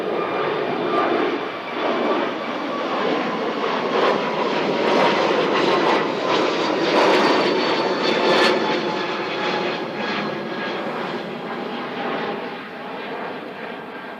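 Airliner roaring down the runway on takeoff at Christchurch Airport under low cloud, a loud steady engine rumble and whine that holds throughout, close and continuous with no talking.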